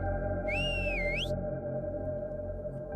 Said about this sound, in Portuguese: um estranho assobio foi dado bem distante